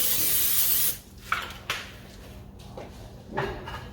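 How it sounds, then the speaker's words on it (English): A steady hissing spray from an olive oil spray can lasts about a second, followed by soft clatter and light knocks of kitchen handling, quiet and close. "I'm just going to use some olive oil spray"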